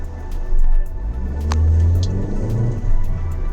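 A 2020 Maruti Ertiga BS6 engine runs with a low, steady rumble that swells as the car pulls away, heard close up with no talking.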